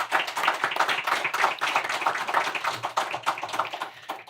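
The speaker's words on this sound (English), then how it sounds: "Let's give him a round of applause" A live audience at a bipartisan small-business policy panel claps for the moderator, a dense, close round of many hands beating in fast, uneven rhythm that holds steady for several seconds, then starts to thin.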